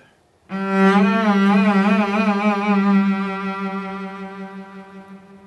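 A sustained bowed cello note rings out loud and clear, its pitch wavering steadily in a gentle vibrato that slowly settles, with no voices.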